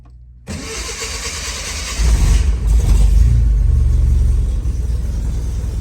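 A Datsun 510 engine makes a cold start after sitting a couple of days. It cranks briefly, then catches with a loud, deep rumble, revs up, and settles into a rough, steady idle close by.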